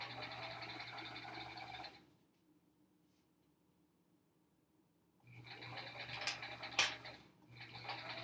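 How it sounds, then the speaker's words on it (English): A sewing machine stitches paper-pieced quilt block pieces together, running in two steady bursts at moderate level with a quiet pause between them and no talking. "sewing the pieces"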